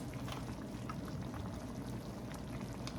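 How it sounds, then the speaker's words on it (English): Chicken and dumplings broth bubbles steadily in a pot on the stove, a dense, continuous simmering hiss and burble heard up close with no talking. "I'm going to cut this down to a simmer"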